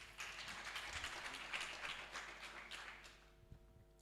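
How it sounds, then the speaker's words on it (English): Audience clapping at a formal presentation of a national manpower survey report, a steady spread of many hands at moderate level for about three seconds, thinning and fading out toward the end. "I think we should clap for them."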